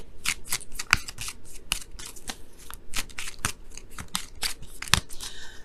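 Tarot cards shuffled in a rapid run of crisp riffles and snaps, close and fairly loud, with no talking over them.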